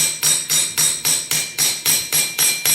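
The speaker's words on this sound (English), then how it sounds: "I'm going to pound this leaf with the hammer all over the place on this anvil." A hammer pounding a leaf on an anvil for lantern craft work, ten sharp metallic strikes in an even, quick rhythm, close and loud with no talk.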